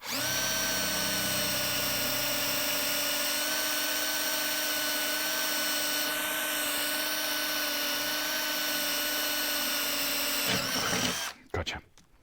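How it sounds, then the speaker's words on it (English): A power drill bores holes in aluminium angle being made to mount a sound bar on a wall-mounted TV, whining steadily and loudly for about eleven seconds before winding down and stopping with a few handling clunks. "I'll turn the drill around sideways a little bit this time so you can see."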